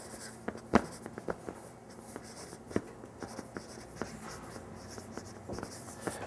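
Handwriting as plant names are put down on paper, soft scratchy pen or pencil strokes with small taps, close and quiet, with no talking.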